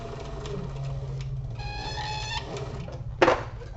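A sewing machine stitches around the corner of a bag in short bursts of fast mechanical whirring and rattling, close and fairly quiet, with a sharp clack near the end.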